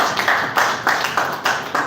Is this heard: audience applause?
yes